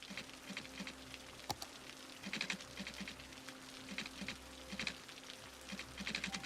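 Rain in the city-building game Cities: Skylines patters softly and steadily, a faint crackling hiss with scattered light ticks and a low background hum.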